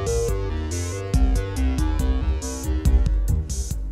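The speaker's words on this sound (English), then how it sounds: "So that bass sound you're hearing is coming from the JX-03." A Roland JX-03 synthesizer plays a bass line driven by MIDI clock, a steady rhythmic pattern of short punchy low notes with brighter hits above, close and moderately loud, with no voices.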